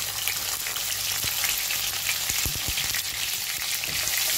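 Garlic sizzles in hot oil in a pan alongside potatoes and carrots for a Bengali fried dish, a steady close frying crackle with scattered pops and the odd stir, no talking.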